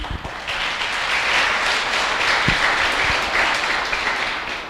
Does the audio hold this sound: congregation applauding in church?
yes